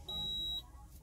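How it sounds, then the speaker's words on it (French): A hand coffee machine sounds one steady electronic beep, about half a second long, signalling that its water is hot, followed by a quiet pause. "Et vous allez entendre 3 petites sonneries, et 3 petites sonneries, c'est-à-dire que votre eau sera chaude."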